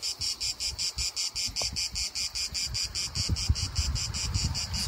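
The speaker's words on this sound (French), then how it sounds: "au champ des cigales" Cicadas sing in a sunny, shaded Provence field with a light mistral blowing, a loud, rapid pulsing buzz that repeats steadily throughout, over faint wind and low rustling.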